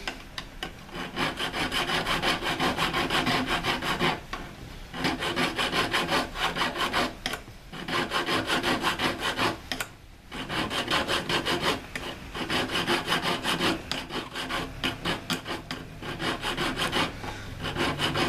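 Continuous rhythmic rasping of a hand file scraping back and forth on metal in jewellery making, steady strokes with brief pauses, close and fairly loud.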